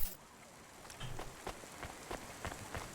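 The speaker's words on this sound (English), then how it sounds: "Don't let all the rain get you down." Rain falls in the sci-fi video game Cloudpunk, a faint steady hiss with soft scattered taps and steps over it.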